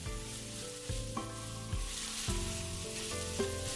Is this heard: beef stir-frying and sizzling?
yes